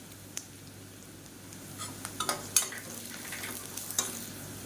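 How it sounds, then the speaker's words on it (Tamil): Chopped onion frying with dried red chillies and crushed garlic cloves gives a low, steady sizzle. Scattered light spatula scrapes and taps against the pan sit on top, and no voices are heard. "வெங்காயம் நல்லா பொன்னிறமாக வதங்கட்டும்"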